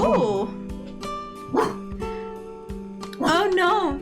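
A dog named Mr. Bark barks repeatedly in a video game, several loud close yips and bow-wows in uneven bursts with whimpering tones, a steady tonal hum underneath.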